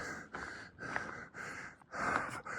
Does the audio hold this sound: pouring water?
no